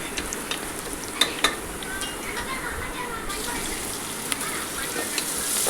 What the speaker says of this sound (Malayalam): ലേശം പെരുംജീരകം അതൊന്ന് മുരിഞ്ഞ് വരട്ടെ